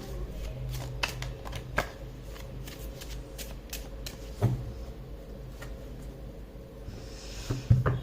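A deck of cards being shuffled up close: crisp riffles and card slaps come in uneven bursts, with soft rustling in between and a few louder handling knocks.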